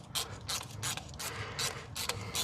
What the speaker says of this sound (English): Right, undo our clamp a bit more.